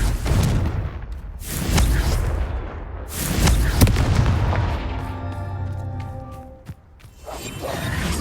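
Confringo fire spell explosions in the video game Hogwarts Legacy, loud repeated booming blasts with whooshing bursts and crackling ringing tails, close and heavy.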